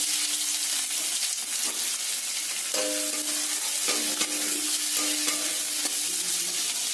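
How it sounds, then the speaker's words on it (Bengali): Chopped onions hiss and sizzle steadily in hot oil with a torn bay leaf and cinnamon, a continuous close frying crackle punctuated by a few spoon-against-pan scrapes and stirring sounds, with no voices. "এবার কেটে রাখা পেঁয়াজগুলো এতে দিয়ে দেব"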